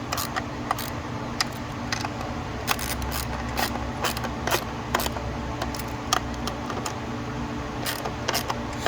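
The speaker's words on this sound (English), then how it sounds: "we'll secure these down with a 10mm socket" Ratchet with a 10mm socket tightening bolts on an intake manifold mount of a new Jeep Wrangler JL engine, giving repeated short clicking bursts in a steady rhythm over a low background hum, close and moderately quiet.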